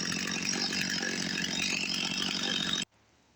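STIHL MS 250 C chainsaw cutting oak firewood, a loud, close, continuous buzzing whine under load that cuts off abruptly near the end, leaving near silence.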